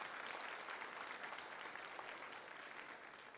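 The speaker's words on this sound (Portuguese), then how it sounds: "Vamos aplaudir a palavra de Deus" A church congregation claps together in a brief, even burst of applause, heard at a moderate distance with no voices over it.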